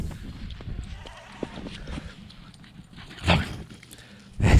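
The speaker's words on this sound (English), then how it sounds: "As she runs by, she likes to growl." A dog running through snow outdoors gives short growls and huffs as it passes, two louder bursts close to the microphone near the end, over low wind rumble.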